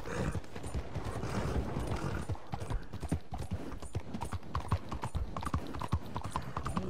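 Steady clip-clop of horse hooves in a video game at a brisk, even rhythm, with faint creaking and mechanical sounds beneath.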